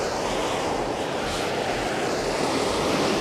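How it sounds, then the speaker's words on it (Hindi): Hot spring water gushing steadily out of the ground near Pangong Lake in Ladakh, a continuous loud broadband rush with no break and no voices. "एक और हॉट स्प्रिंग है जिसमें से गर्म पानी निकल रहा है और इसकी आवाज़ सुनाई दे रही होगी आपको"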